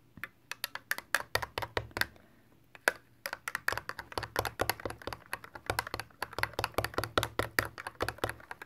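A drink being stirred vigorously with a spoon to knock down the foam, a fast run of sharp close clicks and taps against a small cup, briefly pausing before resuming.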